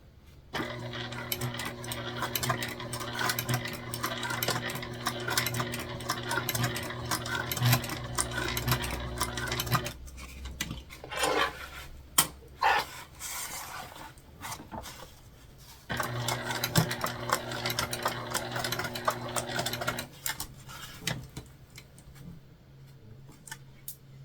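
Domestic sewing machine stitching a fabric sling close to a D-ring connector, running in steady bursts with a pause in the middle, then resuming; close and fairly loud, no talking.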